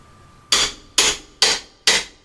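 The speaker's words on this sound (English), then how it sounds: "I'm just going to have to get in here with a good old-fashioned pry bar and hammer" Four sharp hammer blows land at a steady pace, each a loud metallic strike on a pry bar against siding that rings briefly before the next.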